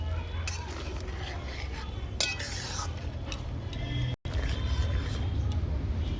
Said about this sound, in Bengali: এবার আমি মাছ আর ঢেঁড়স একসাথে দিয়ে দেবো ভালো করে নাড়িয়ে নেবো